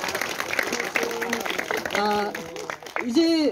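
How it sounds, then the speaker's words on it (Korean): Audience applause at a book concert, a steady broadband patter lasting a few seconds with a voice speaking over it through most of the stretch. "네, 박수 부탁드립니다."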